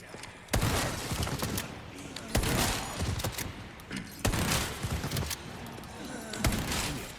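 Shotgun fire in the Resident Evil 4 Remake video game, several heavy blasts at roughly two-second intervals, each with a sharp attack and a rumbling tail, loud and close over ongoing game noise.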